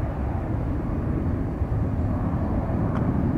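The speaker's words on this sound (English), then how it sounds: "Impressive takeoff." Airliner taking off from a runway at San Francisco International Airport, a steady, loud low-frequency jet roar that holds constant throughout with no voices.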